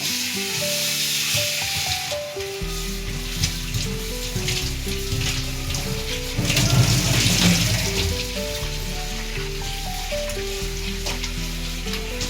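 Salted surmai fish, prepared for a Malvani-style fry, is rinsed under a running kitchen tap, with a steady rush of water and splashing that swells briefly partway through.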